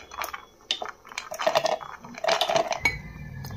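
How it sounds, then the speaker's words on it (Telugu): Cooled roasted almonds tumble into a steel mixer jar in a few short clattering pours, hard little nuts rattling against metal in bursts with quiet gaps between. "ఇప్పుడు చల్లారిన బాదం పప్పులను అయితే వేసేసుకోవాలి ఈ మిక్సీ జార్లో."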